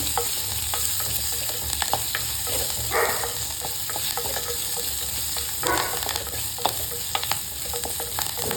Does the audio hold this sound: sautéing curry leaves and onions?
yes